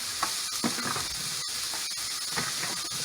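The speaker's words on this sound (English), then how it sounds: "Then I add half a white onion that I diced up. And I'm gonna cook these down together." Diced white onion cooks down in a pan with a steady, close sizzle and frying hiss. Occasional stirring scrapes break through now and then, and no one talks.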